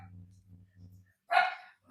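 Pet dogs give a single loud close bark after a brief stretch of low hum, in a home kitchen setting during mild spring weather.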